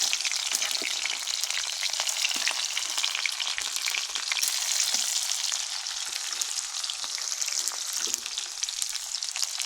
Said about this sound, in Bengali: তেলটা গরম হয়ে গেছে রসুন দিয়ে দিলাম গোলমরিচ দিয়ে দিলাম